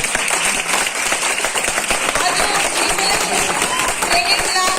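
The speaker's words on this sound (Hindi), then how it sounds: "उनके लिए भी खड़े होकर जोरदार ताली होना चाहिए" Audience at a training session clapping together loudly for a trainer, a busy crowd texture with distinct hand claps, mixed with voices calling out over it.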